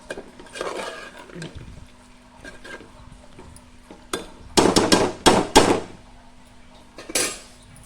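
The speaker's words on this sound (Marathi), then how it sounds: "पुन्हा झाकण ह्याच्यावर ठेवून देते" A lid is set back on a pan of prawn masala with kokum. Soft handling noises come first, then a cluster of loud, close metallic clanks and rattles, followed by a last lighter clatter.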